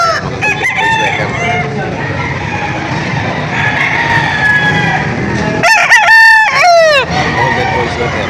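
Roosters crow loudly at a livestock auction in Padre Garcia, Batangas, one close bird giving a long cock-a-doodle-doo near the end over a steady chorus of distant crowing and clucking.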